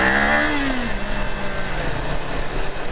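A Kawasaki Ninja 500 SE motorcycle engine revs hard at full throttle in first gear, its pitch climbing steadily, loud and close with no talking.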